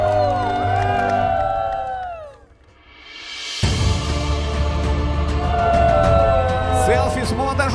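Wedding guests cheer and whoop for the couple's kiss, a loud, sustained crowd roar with shouts and whistles rising and falling, voices mixed throughout.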